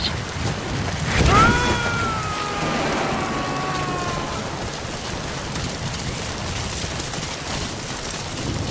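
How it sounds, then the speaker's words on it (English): Steady rain hisses and patters continuously in Metal Gear Solid V: The Phantom Pain, with a brief tonal whine sweeping through near the start; no talking. "Sound of rainfall should help to mask your footsteps."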